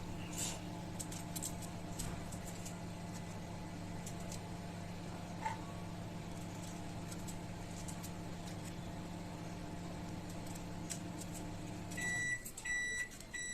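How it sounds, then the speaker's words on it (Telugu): A microwave oven boiling potatoes in water hums steadily at low volume, then near the end it stops and gives a short run of high electronic beeps. "ఆలు ఉడికిపోయిందనమాట, అదే బీప్ వస్తుంది."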